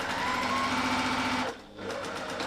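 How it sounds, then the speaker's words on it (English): A sewing machine runs steadily and close up while it sews a back stitch, with a brief slowdown and dip near the end before the motor hum resumes. "Nice back stitch. And there we are, stitched all the way around."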